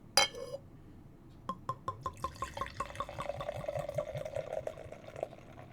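Beer streams slowly into a Harpoon limited series tulip glass, opening with a sharp clink, then a run of rhythmic glugging splashes and fizzing foam, close and clear with no talk.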